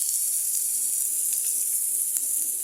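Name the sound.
taro frying with onion, garlic and green chili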